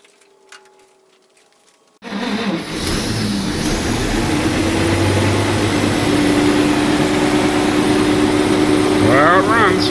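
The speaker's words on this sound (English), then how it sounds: "Well, it runs." An old Studebaker engine runs loudly and steadily at its first startup in 60 years, kicking in after a quiet start and holding a rough, continuous idle with brief revs, up close.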